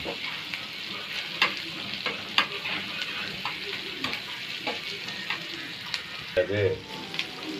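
Onions fry in a pan until golden while cooking a mutton fry, a quiet steady sizzle with frequent clicks and scrapes of stirring and a brief murmur of voice near the end.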